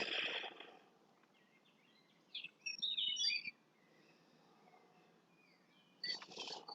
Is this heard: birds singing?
yes